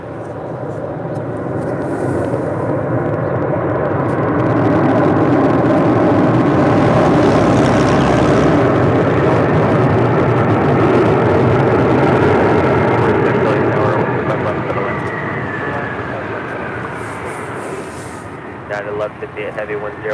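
An airliner landing on runway 25 left at LAX roars past as a broad, rushing engine noise that swells to a peak midway, then slowly fades with a whining tone near the end.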